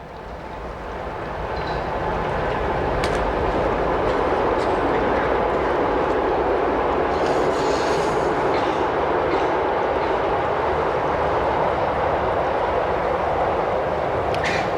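A train passes close by, its roar swelling quickly and holding steady with a continuous clattering rumble and occasional metallic clicks.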